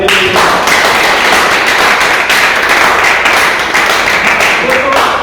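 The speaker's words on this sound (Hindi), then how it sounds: "आप लोग अपने तरफ से एक जोरदार तालियों द्वारा" An office audience gives loud, sustained applause for a chairman after a speech, dense clapping filling the room throughout with a few voices mixed in.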